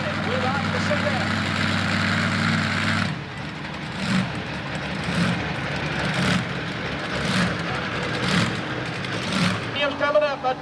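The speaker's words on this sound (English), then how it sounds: "But the tractor is still running." A diesel super stock tractor (5,500 to 7,500 lb class) keeps running at a 1995 tractor pull in Woodbury, Tennessee. Its steady engine drone carries regular pulsing surges, heard at a distance under an announcer's ongoing commentary.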